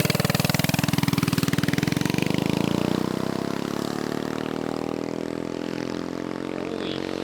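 A repaired mini bike engine running very loudly up close, a harsh buzzing rattle with a rapid pulsing beat that settles to a slightly lower, steadier drone.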